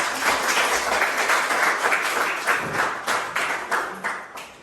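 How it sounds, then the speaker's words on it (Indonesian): Classroom applause for a group of children who have just presented, a fairly close, dense patter of many small hands that thins out toward the end into a few separate claps. "Berikan tepuk tangan dulu untuk"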